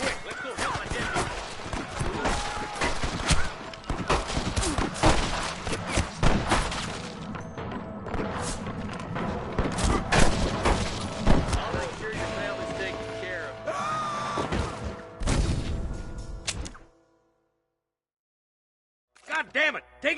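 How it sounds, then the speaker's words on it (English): Gunfire in the Western video game Red Dead Redemption: dense, rapid shots and thuds crowding together over game voices, then cutting to silence before a final short burst. "I can hear more gunshots."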